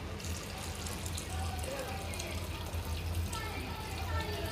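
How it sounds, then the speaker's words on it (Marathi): Heated water pours steadily into a pot of veg pulao, a constant close splashing rush that lasts throughout. "आता आपण जे पाणी गरम करून घेतलं होतं ते यात घालूया."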